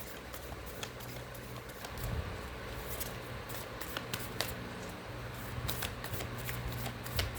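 Tarot cards are shuffled for a reading, a steady soft papery riffling with crisp flicks and slaps running throughout at close range and moderate level, with no talking.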